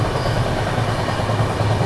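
A passenger train runs steadily on rails at speed, a continuous loud rumble of wheels and carriages with a faint rhythmic clatter and no talk.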